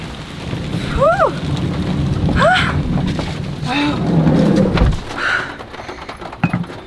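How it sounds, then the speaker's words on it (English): Heavy rain pours down steadily in Guatemala in a dense hiss while a bird calls a few times in short rising chirps over it. "It's pouring rain now."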